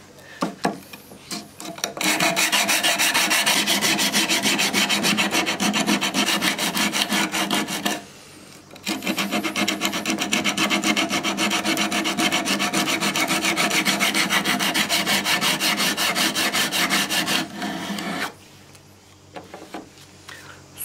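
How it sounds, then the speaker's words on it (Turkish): Steel knife blade being hand sanded with sandpaper before heat treatment, a close, loud rhythmic back-and-forth rasping that runs in two long continuous stretches separated by a brief pause, with no talk. "Şimdi bıçağımıza ısıl işlem öncesinde 60 kum zımparayla başlayarak 320 kuma kadar perdah yapacağım."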